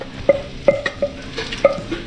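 A spoon stirs boiled mung beans with tomato in a pan, giving a steady series of sharp metallic clinks and taps, about one every half second, close up with a faint sizzle underneath and no talk.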